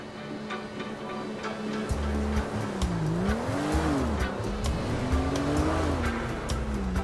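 A 2021 Ford Bronco mod driven in the video game GTA 5, its engine droning steadily with rising and falling revs and possible tire squeal, loud and close with no talking.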